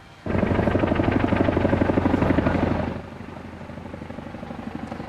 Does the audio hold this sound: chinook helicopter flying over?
yes